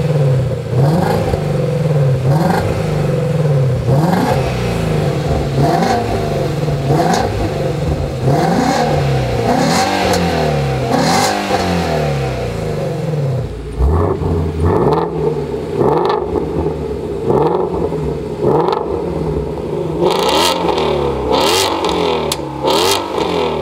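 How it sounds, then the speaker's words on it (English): A Ford Mustang GT350 with a Corsa Double Helixx X-pipe exhaust is free-revved while parked, its engine repeatedly rising in sharp, loud blips and falling back to a rumbling idle, close up and with no voices. "We're gonna do some free revs here to give you guys to showcase this double Helix system"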